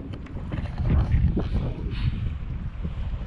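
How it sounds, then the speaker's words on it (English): Strong wind buffets the microphone in heavy, rumbling gusts by an alpine lake, with water sloshing nearby and no clear speech. "It is so windy out here."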